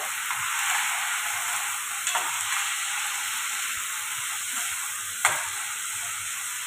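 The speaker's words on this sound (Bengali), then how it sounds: "একটু আমি নাড়ব।" Basanti polao stirred in a hot pan, a steady broadband sizzle of frying with a few sharp spoon scrapes against the metal, close and continuous, no voices.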